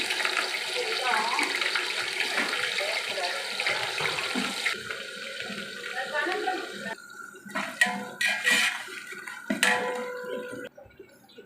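About a quarter kilo of thinly sliced onions for a large chicken biryani sizzle in hot oil, a loud continuous crackling hiss that grows more broken and sputtering toward the end.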